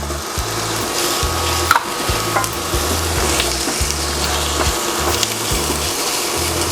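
Garlic and ginger sizzling in a hot pan of oil for pininyahang manok, a steady close crackle with rhythmic spatula scrapes and stirring knocks throughout, no talk.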